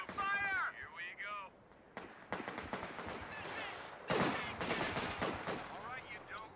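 Video game battle in Company of Heroes 2, with bursts of rifle and machine-gun fire crackling under soldiers' shouted orders and radio chatter, heavier volleys erupting midway and continuing to the end.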